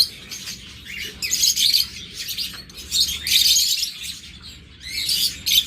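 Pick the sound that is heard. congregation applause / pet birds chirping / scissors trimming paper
pet birds chirping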